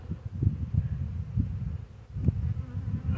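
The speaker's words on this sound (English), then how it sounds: "these bees are getting mad now" Agitated honeybees buzz densely and close during a hive inspection, a low drone with pulsing swells and individual bees zipping past.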